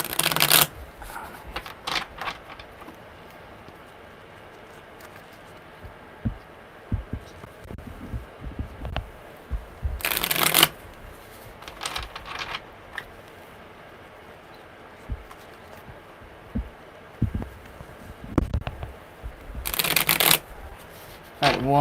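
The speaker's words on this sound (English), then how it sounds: "one more good shuffle" Tarot cards are shuffled by hand in repeated crisp riffle bursts spaced several seconds apart, close and clear, with softer card handling and rustling in between.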